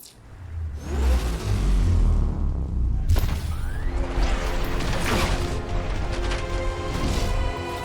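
Batmobile summoned and driven in the Batman: Arkham Knight video game: a loud, steady engine roar with revving and a crash-like burst about three seconds in, filling the whole stretch.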